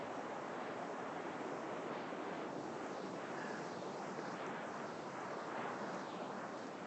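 Steady, dense roar of ocean surf at Big Wave Bay beach in Hong Kong, waves washing continuously with no breaks, heard alone and fairly close with some wind on the microphone.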